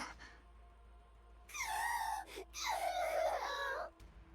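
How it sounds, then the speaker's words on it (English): Yuni, a character in Nikke: Goddess of Victory, sobs in two long, wailing cries with a brief gasp between them, close and fairly loud, with no other sound around them. "Yuni begins to sob."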